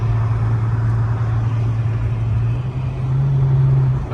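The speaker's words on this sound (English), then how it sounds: "Gotta get the exhaust warmed up first." An Infiniti M37S engine idling and revving to warm the exhaust, a loud close low rumble with a steady drone that rises in pitch near the end.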